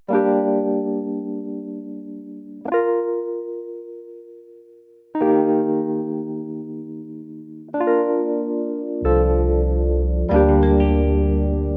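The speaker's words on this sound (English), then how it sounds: "And then I can layer again with this E piano." Sustained chords with smooth electric piano tone layered over guitar ring out and decay one after another in an Afrobeats arrangement, the last two hits fuller and lower as layers stack.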